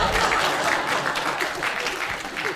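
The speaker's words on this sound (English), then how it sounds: "see how many of you clapping right now?" An audience at a stand-up comedy show claps, a dense, steady burst of applause filling the room from start to finish, fairly loud with a faint crowd murmur underneath.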